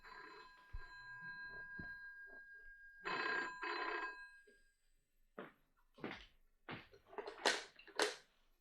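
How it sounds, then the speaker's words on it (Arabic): A telephone rings indoors in a few short, fairly faint bursts, with soft knocks and clatter in between. "اقوم انا ارد على التليفون."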